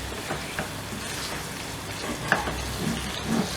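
Fresh chicken frying in a karahi, a steady low sizzle and crackle running throughout, with a couple of faint clinks partway through and no talking.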